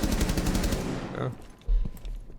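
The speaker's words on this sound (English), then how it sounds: "He tried to shoot him through the wall." Rapid automatic gunfire from Rainbow Six Siege, a dense, loud burst of shots that fades out partway through, followed by quieter scattered game noises and a short low thump.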